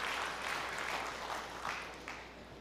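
A church congregation applauds during a sermon, producing a faint, steady wash of clapping that swells slightly in places, heard from a distance.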